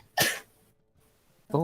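A single sharp sneeze up close, followed after a short pause by a person starting to speak.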